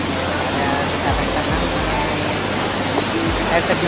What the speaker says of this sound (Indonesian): air terjun Lanjoka